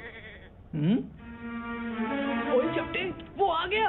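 A goat bleats in a Hindi cartoon: a wavering, nasal bleat starts near the beginning and stretches on over a held musical tone, with a character speaking briefly.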